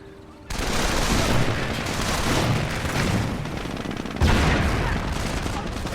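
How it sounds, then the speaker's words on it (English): Rapid, sustained gunfire from an enemy squad of Fasmjagers in a real-time strategy game, dense overlapping shots forming a continuous loud roar that swells again near the end. "Gunned down by that squad of Fasmjagers."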